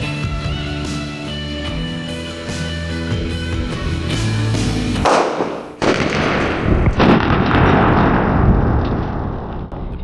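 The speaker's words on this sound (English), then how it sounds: "3 huge firecrackers weighing 150, 200, and 250 grams each" A large homemade firecracker weighing 150 to 250 grams goes off partway through with a sharp, loud blast, followed by a sustained crackling, roaring burst of noise that stays loud to the end.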